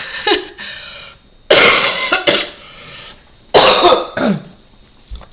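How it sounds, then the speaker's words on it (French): Two harsh bursts of coughing, each a cluster of rough hacks, loud and close, separated by a quieter pause. "Excusez-moi pour la toux."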